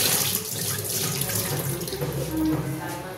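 Tap water runs steadily into a sink as potatoes, onions and cauliflower are washed in turmeric water, a continuous close splashing flow with no talk.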